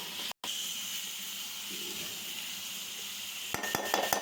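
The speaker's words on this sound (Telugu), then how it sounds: "మొత్తం ఆయిల్లో కలిసే విధంగా ఒకసారి కలుపుకోవాలి" Ridge gourd and chana dal curry being stirred in hot frying oil, a steady soft sizzle and hiss throughout, with a brief cutout near the start and a few scraping stir clicks toward the end.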